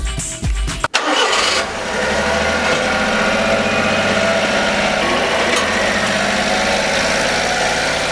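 A Honda Acty kei truck's small engine cranks and catches with a quick clunk, then settles into a steady, close, buzzing idle ahead of a test drive after front suspension repair, no voices over it.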